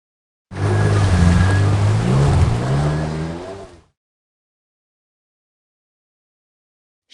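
A jet ski runs on open water, its engine revving and droning loudly up close for about three seconds amid splashing spray, then cutting off abruptly to silence.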